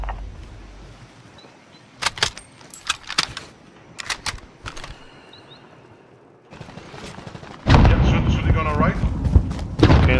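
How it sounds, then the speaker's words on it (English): Gunfire in the Warzone battle royale video game: several sharp shots in short bursts between about two and five seconds, fairly close, followed by a louder, denser stretch of game noise. "We're all shooting on the right."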